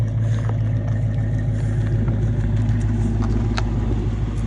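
A manual-transmission car idles and creeps in reverse, giving a steady low engine rumble close by with no talk over it.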